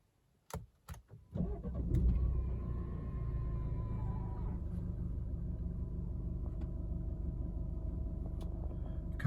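An Alfa Romeo car engine cranks with a few sharp clicks, then catches and settles into a steady, close idle rumble that continues without talk.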